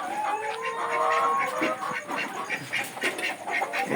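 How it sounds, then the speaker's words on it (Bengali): Ducks on a mixed small farm that also keeps chickens, pigeons, goats and cows give a run of nasal quacks at moderate distance, uneven and overlapping, over a quiet outdoor background. "এই যে হাঁস আছে"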